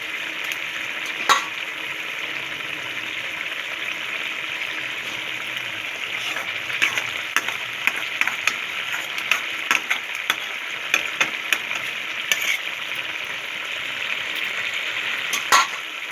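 Potatoes cooking with chicken bones in a pan, a steady close sizzle and bubbling hiss with occasional soft ticks and spatters, no voices.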